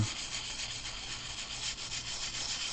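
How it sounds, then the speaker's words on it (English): Sandpaper rubbed steadily over plastic model putty on a kit's panel lines gives a continuous close scratchy rasp with a gentle back-and-forth rhythm, with no voices. "just so I don't have a bunch of streaks going across the plastic from the sandpaper"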